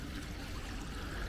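Water drains from a river lock as a continuous low rushing and trickling flow, steady and moderately quiet.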